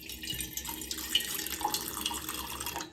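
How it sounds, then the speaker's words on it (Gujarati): Water pours into a pot set on a gas stove for tea, making a quiet, steady splashing trickle for a few seconds with no voices. "ટોપડી પણ મૂકી દઈએ કે પાણી भी डाल देते हैं"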